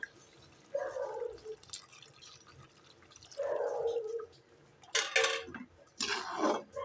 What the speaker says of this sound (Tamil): இப்போ நம்ம இன்னொரு கிளாஸும் தண்ணி ஊற்றிக்கலாம்.